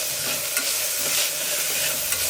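Masala sizzles and fries in a pan, a steady close hiss with faint stirring scrapes and no voices.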